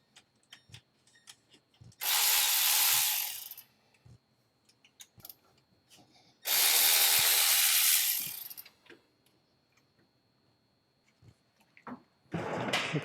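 A ratchet works bolts loose on an E36 BMW M3 cooling system, with three loud bursts of rapid clicking separated by quiet stretches of scattered tool taps and small clanks.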